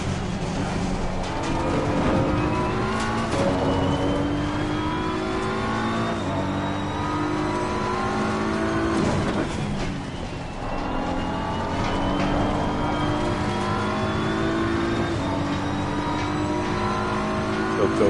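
A Lamborghini race car in a racing video game, its engine revving loudly and steadily through rising and falling gear shifts with continuous whine, no talk.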